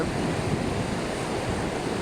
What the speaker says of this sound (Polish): Korzystam z tego wszystkiego, co tu mamy. Z szumu morza